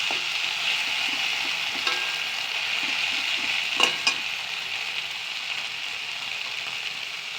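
Garlic paste sizzles in hot oil in a pan for a pui shak chorchori, a steady close hiss with a couple of brief sharper spits partway through.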